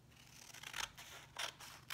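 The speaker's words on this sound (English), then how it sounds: "And you're going to cut along that line." Scissors cut through paper along a drawn line, with two or three faint snipping strokes close up in a quiet room.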